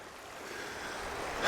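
Flowing water of Spring Creek, a steady broadband hiss and rush close by that swells slightly toward the end, with no voices.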